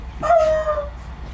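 A dog lets out a single short, loud, high whine or yelp that briefly rises then fades, alone with no talk over it.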